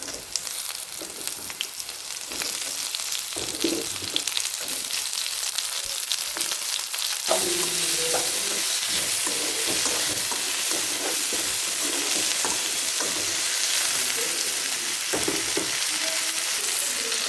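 Ivy gourd (kovakka) fries in a hot pan as it is stirred: a steady, close sizzle that grows louder and hissier partway through, with occasional scraping of the spoon and no talking.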